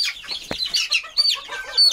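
Chickens cluck in short, near bursts, a few quick calls overlapping briefly with soft background noise and no voices.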